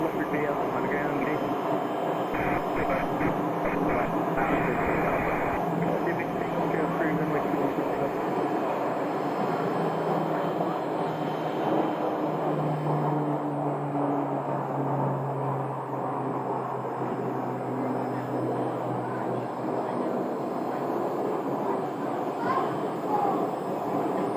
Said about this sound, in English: so that was the Pilatus PC-12.